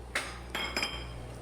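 A spoon scraping and pressing gram flour into ghee for healthy laddoos, giving three soft clinking strokes against the pan, close and alone.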